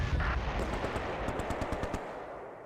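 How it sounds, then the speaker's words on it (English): Vickers machine gun firing in Close Combat, short rapid bursts of rattling shots at a distance, fairly faint against a dull background roar. "The Vickers switches fire to reserve squad in the open"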